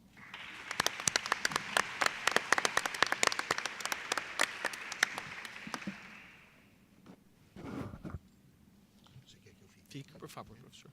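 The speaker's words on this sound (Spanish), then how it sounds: "Quem eu peço uma salva de palmas" Audience applause at the official opening of an academic congress, dense clapping for about six seconds, then fading into scattered claps and a brief burst of noise, with faint talk underneath.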